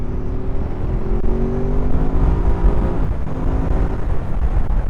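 A 2024 Ducati Supersport 950 S motorcycle pulls a third-gear roll-on, its engine drone climbing steadily in pitch, loud and close under rushing wind noise throughout.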